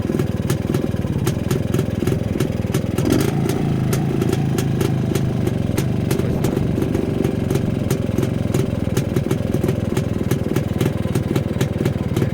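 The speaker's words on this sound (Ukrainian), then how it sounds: "Але мотоцикл ще на обкатці, тому будуть моменти плавання холостого." A Pannonia motorcycle engine, still being run in, idles steadily nearby, a continuous low chugging with mechanical clatter that fluctuates slightly in pace, with no voices.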